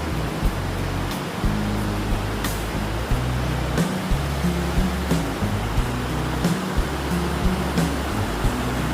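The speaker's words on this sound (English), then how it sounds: "This is underneath Ball River Falls." Bald River Falls pours into a river below, a steady broadband roar of falling water heard up close from underneath the cascade, continuous and loud with no voices.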